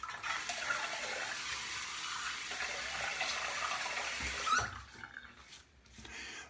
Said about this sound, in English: we'll go ahead and wet the face and get lathering.